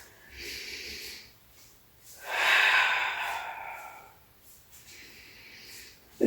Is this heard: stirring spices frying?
no